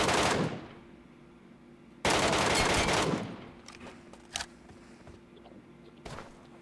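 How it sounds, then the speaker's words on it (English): Bursts of automatic gunfire in the battle-royale shooter Metro Royale: a long loud volley, a second sustained burst, then scattered single shots and a short final burst. "I don't even know where I'm getting shot from"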